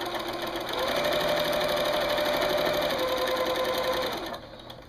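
A sewing machine stitches binding onto a quilt in one steady, fast run of needle clatter with a faint hum. It stops abruptly near the end.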